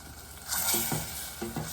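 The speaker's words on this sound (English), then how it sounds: "we're getting a fairly good bubble going on" Homemade gluten-free teriyaki sauce bubbles and sizzles in a pan, a close, steady hiss with a few soft popping bubbles and light stirring knocks.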